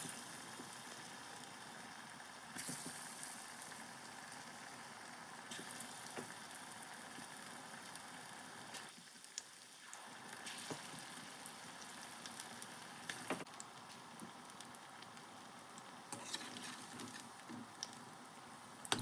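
Banana flower vadai frying in hot oil in a pan over medium-low heat, a steady soft sizzle and crackle that runs quietly throughout with small pops and brief dips.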